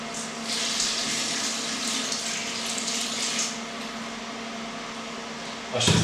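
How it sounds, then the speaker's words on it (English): Water pours steadily into a pan of bolognese sauce made with minced meat and reduced wine, a loud, continuous rushing splash that ends with a brief burst. "so we're now going to add some water in as well."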